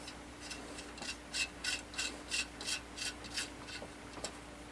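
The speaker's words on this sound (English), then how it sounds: "Take the bottom and start screwing it into here." Close, quiet repeated scraping rasps as a threaded part is screwed into place by hand, about eight evenly spaced turning strokes over a faint steady hum, no voices.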